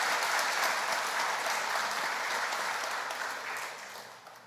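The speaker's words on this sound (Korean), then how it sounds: "서로를 위해서 박수 한번 하고 축하하시겠습니다" A church congregation applauds at a pastor's installation thanksgiving service, with dense, loud clapping from many hands that fades toward the end.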